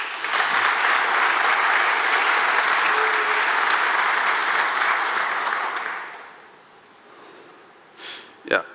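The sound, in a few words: applause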